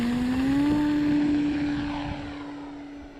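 Carbon Z T-28 radio-controlled model airplane taking off, its electric motor and propeller holding a loud steady droning whine that fades slowly as the plane climbs away, with no talk.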